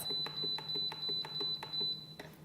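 A soup maker's plus button is pressed repeatedly to set a 20-minute timer, giving a quick, evenly spaced run of faint electronic beeps over a steady high tone.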